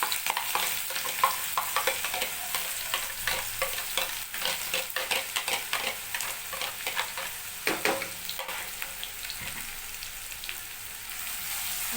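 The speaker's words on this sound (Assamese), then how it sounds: "আমি এইখিনি ভালকৈ ভাজি ল'ম।" Onions frying in a pan with green chillies and garlic, a steady close sizzle broken by frequent scraping stirs of a spatula, continuing without any talk throughout.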